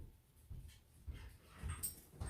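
A pet dog whimpers and whines close by in a home, giving soft repeated whiny cries with breathy panting between them. No one speaks.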